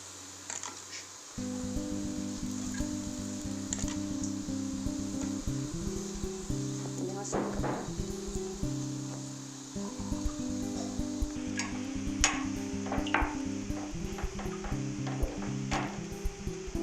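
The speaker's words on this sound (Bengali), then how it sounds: "একটু লালচে করে ভাজবেন।" Laccha paratha frying in a pan over a medium flame: a steady soft sizzle with occasional scraping and stirring clicks runs under background music.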